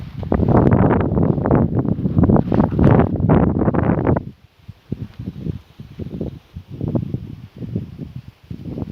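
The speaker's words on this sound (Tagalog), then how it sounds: "Sobrang mahangin ngayon guys, kaya nakikita ninyo sobrang mahangin talaga ngayon." Strong wind buffets the microphone in heavy, loud gusts, then eases into softer, intermittent rumbling puffs.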